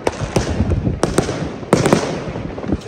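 New Year's Eve fireworks in Germany burst in a rapid, irregular volley of loud nearby bangs and crackles, one explosion after another.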